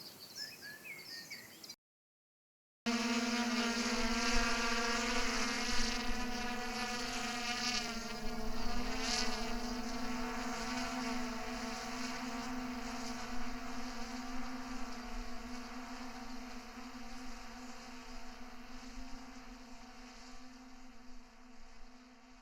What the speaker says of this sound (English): this is the sound at 60 metres away in a rural soundscape for the drone taking off